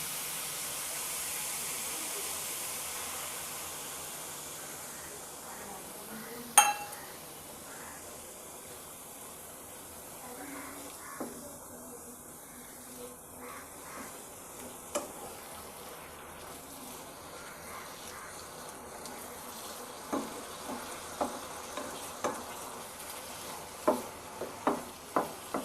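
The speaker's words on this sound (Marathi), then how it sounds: "परत 5 मिनिटं शिजवून घेऊया." Beetroot halwa simmering in a pan after milk is added, a soft steady bubbling and sizzle with occasional sharp spoon clicks and stirring scrapes, growing more frequent toward the end.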